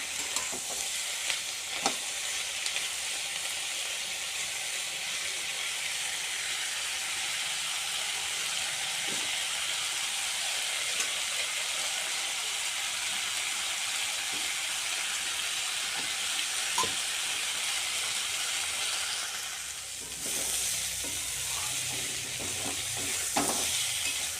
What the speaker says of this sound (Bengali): এখন আর একে ঢাকা দেবো না এইভাবে একটু ভালোভাবে ভেজে নেব